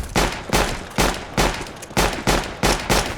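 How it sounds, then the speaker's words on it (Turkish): Rapid gunfire in Counter-Strike: Global Offensive, seven sharp evenly spaced shots at close range, loud and without voices. "Dayı adama 12 tane mermi sıktım 13. de ölmedi"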